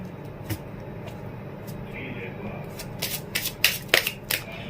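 Romance Angel oracle cards being shuffled at a fortune-telling reading, soft papery riffles and taps that build into a quick burst of card flicks toward the end, close by, over a low background hum.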